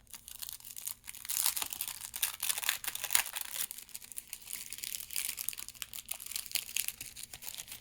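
A small handmade paper envelope being opened up close, with soft crinkling and tearing of paper in a steady run of small rustles, no talking.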